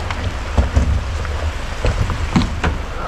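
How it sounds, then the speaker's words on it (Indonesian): Heavy rain falls on a downhill bike track at Cikole, a dense close patter of drops with scattered sharper ticks and a low rumbling bed, steady throughout without talk. "hujan semakin deras."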